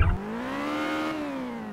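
Ferrari engine in the racing-style driving of New York City Taxi Simulator, a loud, steady engine tone that rises and then eases slightly in pitch, with a brief low thump at the start and no talk over it.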